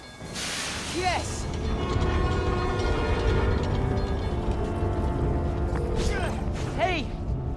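A subway train in the video game Spider-Man: Miles Morales powers up with a steady loud electrical rumble and rising whine, with brief squealing tones over it and no speech.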